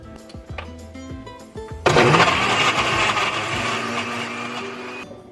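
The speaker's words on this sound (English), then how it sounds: "put the garlic and the ginger in a blender with some virgin olive oil" A blender blending garlic, ginger and olive oil starts with a sharp jump into a loud, dense whirring grind, preceded by a few clinks and knocks, then spins steadily for several seconds before cutting off.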